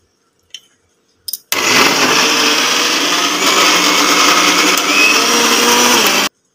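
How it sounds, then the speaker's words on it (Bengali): A mixer grinder whirs loudly and steadily as it blends lentil batter with chopped garlic and chili, after two brief knocks, then cuts off abruptly. "এবার এটা মিক্সিতে ঘুরিয়ে নেব"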